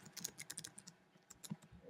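Quick, light keystrokes on a computer keyboard while a website name is entered, a soft irregular patter of clicks heard alone and close, with no one speaking.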